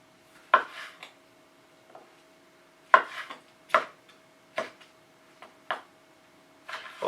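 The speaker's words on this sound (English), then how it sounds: "is these tomatoes. So we'll just be chopping them, again, just roughly" A knife strikes a cutting board in sharp, irregular chops, spaced apart with quiet pauses between, close and clear, as tomatoes are roughly chopped.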